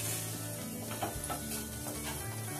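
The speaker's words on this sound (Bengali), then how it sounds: "এবার সবগুলো ভালো করে আমি নেড়ে চেড়ে মিশিয়ে নেব।" Potato filling with turmeric, chopped ginger and roasted peanuts is stirred in a hot pan for paneer singara, giving a continuous sizzle with soft scraping of the spatula and no talking.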